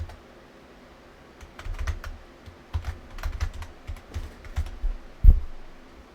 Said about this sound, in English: we're going to type in here